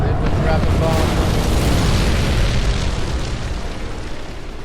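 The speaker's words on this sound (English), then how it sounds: "Here come the boomers. They've been dropping bombs." Bombs exploding in the video game Fallout: New Vegas: a loud, sustained, rumbling blast roar fills the whole clip and slowly fades toward the end, with no voices over it.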